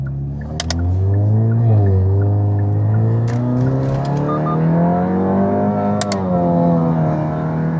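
A Kia K5 DL3 with a 1.6 turbo Smartstream engine, upgraded turbine, revving at half throttle from inside the car: a loud, steady engine drone rising and falling in pitch through gear changes, with no talk.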